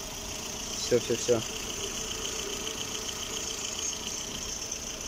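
Lada Granta 2020 engine idling with a steady low hum and faint ticking; a brief spoken word cuts in early, then the engine runs on alone.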